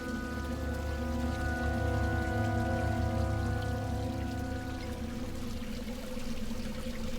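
Steady rushing of water flowing down a runnel in a video game, a continuous, loud, even wash with a constant low hum underneath and no pauses throughout.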